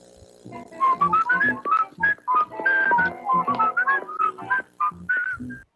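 Someone whistles the Inspector Gadget theme up close, quick notes in a tune-like phrase running continuously, with no talking.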